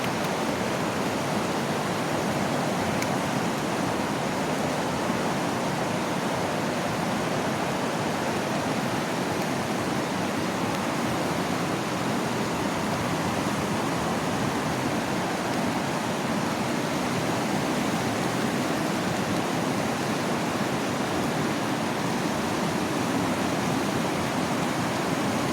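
A river in a Philippine barangay rushes past in a dense, steady wash of flowing water, moderately loud and unbroken for the whole stretch with no talking.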